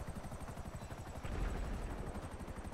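A helicopter in GTA V, its rotor beating in a fast steady chop, loud and close throughout with no talking.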